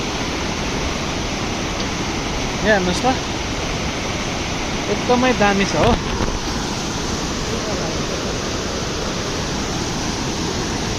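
A fast, heavy mountain river current in Sikkim roars as a loud, constant broadband rush, while someone talks briefly over it in the middle.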